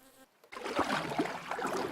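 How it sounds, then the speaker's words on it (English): A bee buzzes in a steady, continuous drone that starts abruptly after a brief quiet moment and holds at a fairly even level. "The bee! The bee! I see the bee!"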